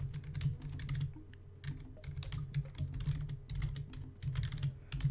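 Clicky mechanical computer keyboard being typed on in quick irregular bursts of sharp close keystrokes, with short pauses between flurries.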